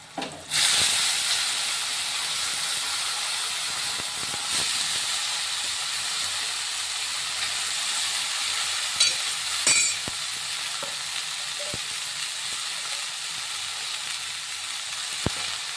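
Shredded cabbage hits hot oil with turmeric and fries with a steady, close sizzle and hiss, broken by occasional scraping and clinks of stirring; no talking.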